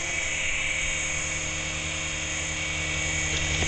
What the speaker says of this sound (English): Especially the S-107, which is this helicopter.